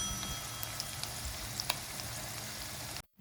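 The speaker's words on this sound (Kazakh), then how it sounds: "2 жағын бірдей қуырып аламыз." Spoonfuls of fish roe patties fry in hot oil, giving a quiet, steady sizzle with occasional small pops and crackles.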